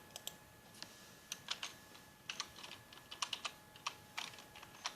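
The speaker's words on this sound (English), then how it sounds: "So we're gonna type this in on the Wikipedia." Fingers type on a computer keyboard in short, irregular bursts of crisp key clicks, close by and fairly quiet against a soft background hiss, with no one talking.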